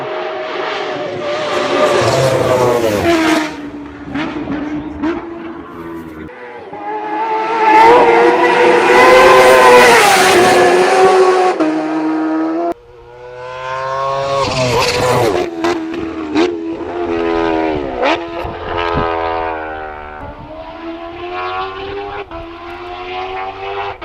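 A Kawasaki H2R motorcycle engine roars and revs hard, its pitch sweeping up and down through several loud passes and gear changes, close and powerful.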